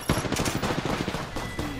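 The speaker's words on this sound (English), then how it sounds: "Nice shots, dude." Rapid automatic gunfire in the video game Apex Legends, a dense burst of loud, closely spaced shots rattling continuously for under two seconds.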